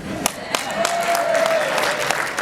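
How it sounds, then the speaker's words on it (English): An audience applauds at a Building Industry Association of Greater Louisville event, a steady wash of many hands clapping at a moderate distance, with a brief tone running through it. "I think if I say my next words, I'll get even bigger applause."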